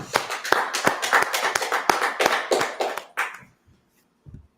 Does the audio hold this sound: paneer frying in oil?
no